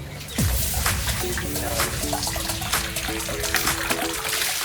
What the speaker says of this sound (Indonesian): Blengong harus dicuci bersih dan dipastikan bebas dari bulu sebelum diolah.